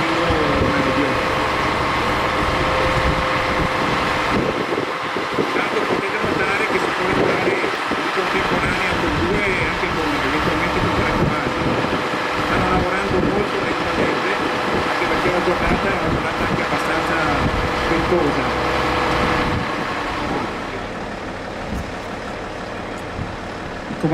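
A Protezione Civile fire truck with a snorkel aerial platform idles steadily at close range, a continuous low engine rumble running the whole time beneath ambient noise, with people talking nearby.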